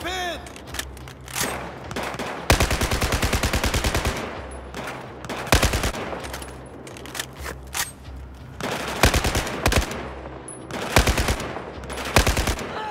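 Sustained automatic gunfire in Battlefield 4, loud rapid bursts of machine-gun fire repeating across the scene with brief gaps between volleys, close and dominant, with occasional faint voices underneath.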